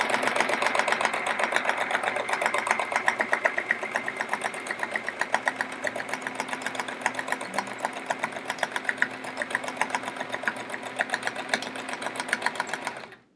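A sewing machine runs steadily through free motion quilting, a rapid even stitching chatter close by that carries on unbroken for several seconds before stopping abruptly.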